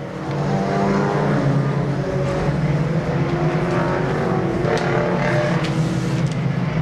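Stock race cars at Seekonk Speedway roar past under green-flag racing, a dense, continuous engine drone that swells as the pack passes, loud and steady throughout without clear talk.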